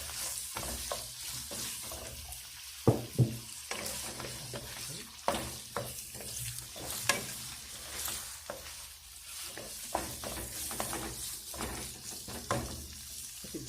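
Onion fries in a pan, a soft continuous sizzle broken by repeated scrapes and clacks of a utensil stirring, steady and fairly close.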